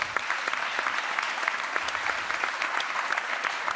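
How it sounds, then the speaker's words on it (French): Audience applause at a digital communication awards ceremony on stage, steady dense clapping from a large crowd throughout, loud and continuous with no talk over it. "Vous pouvez les applaudir."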